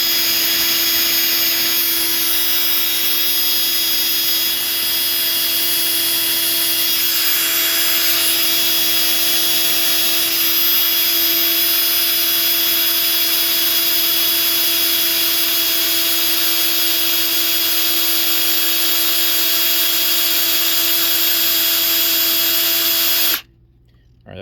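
Power drill priming a rebuilt engine's oil system, a loud continuous high-pitched whine held steady for over twenty seconds before cutting off abruptly at the end.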